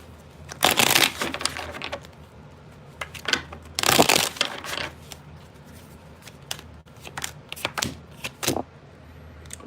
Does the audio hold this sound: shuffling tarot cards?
yes